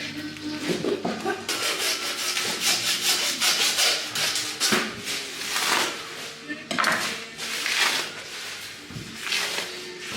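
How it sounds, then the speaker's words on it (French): A butcher cutting through a veal bone, heard as steady rasping, sawing strokes with scraping and occasional clinks of metal, continuing for several seconds at close range. "Ah, t'as vraiment coupé l'os en fait."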